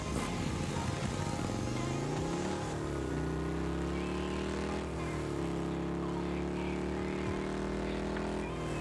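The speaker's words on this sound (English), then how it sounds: "another engine audio." Video game car engine from Rocket League, a steady synthetic motor hum that rises in pitch, then holds a smooth sustained drone with slight pitch shifts, fairly quiet and alone.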